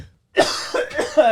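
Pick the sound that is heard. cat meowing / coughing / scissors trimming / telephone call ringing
coughing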